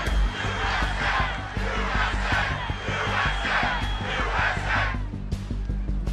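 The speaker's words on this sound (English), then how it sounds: "The crowd starts to chant." Crowd at a Trump rally chanting after the shooting, a large mass of voices in repeated rhythmic bursts roughly every second, loud and sustained over the whole stretch.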